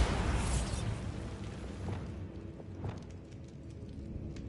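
Bombarda explosion spell cast in the video game Hogwarts Legacy: a loud, broadband blast at the start that decays into a low rumble with scattered crackles.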